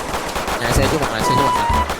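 Rapid gunfire in GTA V roleplay crackles in quick bursts beneath excited Vietnamese voices, the shots fairly close and steady across the moment.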